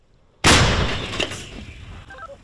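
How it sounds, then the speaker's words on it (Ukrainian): One sudden loud blast cracks out as a Soviet-era howitzer fires on the front line, then a long rumbling decay fades over a couple of seconds. "Гармата ще радянських часів гаубиця, де 30 робить постріл, а слідом ще один."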